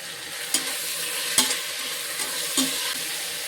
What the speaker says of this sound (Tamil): இதெல்லாம் நல்லா குழஞ்சி வெந்து வர்ற அளவுக்கு நம்ம வதக்கணும்.